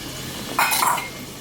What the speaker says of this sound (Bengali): ঢাকাটা আমি তুলে নিলাম